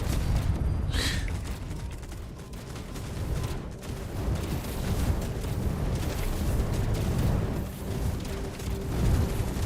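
Airstrike explosions and rapid impacts in the sci-fi strategy game ZeroSpace form a dense, continuous barrage of booms and crackling blasts at steady loudness.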